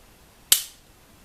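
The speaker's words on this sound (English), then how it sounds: "I'm going to bring that up close so you can hear the reset." A single sharp, crisp metallic click of a Sig Sauer P226 pistol trigger resetting, close up, with a fast decay into near silence.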